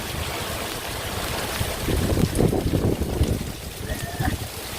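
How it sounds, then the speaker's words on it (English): Gusty Hurricane Dorian wind in Orlando buffets the microphone with rising and falling roars, over a wet, rushing wash of rain and water. "it's pretty wet and pretty windy"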